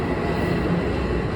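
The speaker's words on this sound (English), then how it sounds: "once that train runs the bend, I should be able to see that M3 train come." A Metro-North M3 commuter train rolls toward a station, a steady, loud rumble of wheels and cars that holds evenly for the whole moment with no voices.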